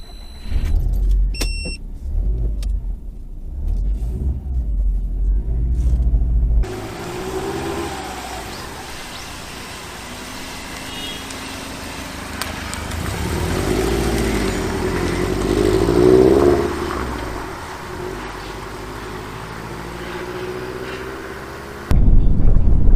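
A 2002 Subaru WRX STi Prodrive Edition pulls away on a road test, its engine a steady low rumble that rises and swells through gears with cabin noise, preceded by quieter idling and faint clicks, no voices.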